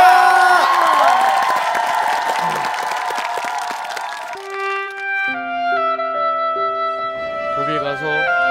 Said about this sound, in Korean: 세계 최초로 큰 박수로 쳐보도록 하겠습니다